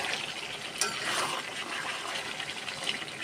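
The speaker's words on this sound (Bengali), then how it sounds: "এবার আমি জল দিয়ে দিচ্ছি" Water poured into a pot of meat and potato curry, a steady close gushing splash that runs continuously for a few seconds with no talking.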